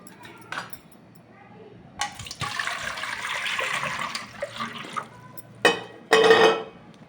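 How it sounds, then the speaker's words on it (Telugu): Water pours steadily into a pot for a few seconds, followed by brief clinks and a short splash nearby. "గిన్నెలో వాటర్ పోసుకొని"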